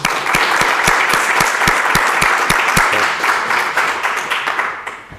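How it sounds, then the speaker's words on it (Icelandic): A room of people at a town council meeting claps for the chairman's birthday: loud, dense applause with distinct individual claps, holding steady for about five seconds before tapering off. "ég held að við ættum að klappa fyrir honum"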